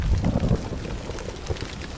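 Steady rain falls in a dense, even hiss with a low rumbling wash, continuous and fairly loud throughout, with no voices or other sounds.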